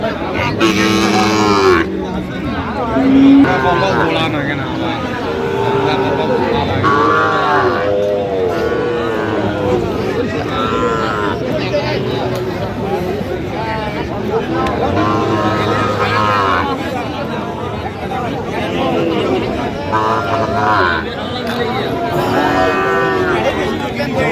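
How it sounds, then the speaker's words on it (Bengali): A young Sahiwal bull calf moos repeatedly at a busy cattle market in Tangail, its low calls rising over a steady hum of crowd noise and nearby talking. "ষাঁড় বাচ্চা।"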